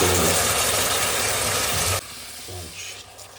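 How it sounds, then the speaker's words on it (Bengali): Masala paste of cumin, coriander, Kashmiri chilli and turmeric powders with ground garlic and chilli frying in a pan, a loud dense sizzle for two seconds that drops off abruptly to a quieter background. "মশলাটা কষানো হয়ে গেছে"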